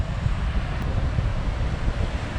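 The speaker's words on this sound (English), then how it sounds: "It's a windy day." Strong wind at sea in the Bahamas buffets the microphone in a steady low rumble, with a faint surf-like wash underneath and no voices.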